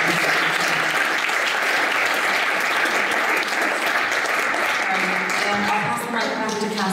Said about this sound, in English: give one more final applause for all three of our lightning speakers